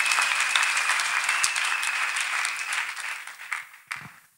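A church congregation claps together during a testimony service, steady dense applause filling the room before thinning out and fading, with a few last scattered claps near the end.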